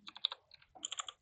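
Typing an email on a computer keyboard: a quick run of close, crisp key clicks in two short flurries, with no talking over it.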